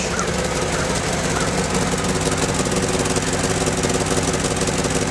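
A Jeep ZJ with a 5.9 engine idles with leaking exhaust joints, a steady, loud rumbling drone with a rapid ticking pulse running through it, close and unbroken throughout.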